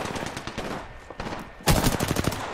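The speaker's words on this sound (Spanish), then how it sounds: "seguro andan disparando" Rapid automatic gunfire in the video game Apex Legends, steady bursts that end in a louder, closer volley of shots.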